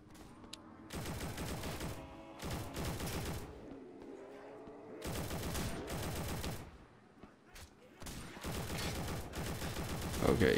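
Bursts of rapid gunfire in the zombie shooter Recoil Zombies, several loud volleys separated by short gaps, with a player talking between and over the shots.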